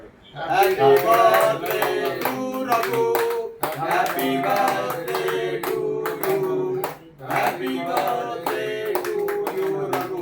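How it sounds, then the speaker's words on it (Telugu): An audience at a birthday celebration claps together in three loud, dense bursts of applause, each lasting a few seconds with brief pauses between them, while voices mingle in the crowd. "ఆయనకు ఒక్కసారి మనం అందరము చప్పట్లతో హ్యాపీ బర్త్డే చెప్పేసి ఈ కార్యక్రమాన్ని మొదలు పెట్టుకుందాం"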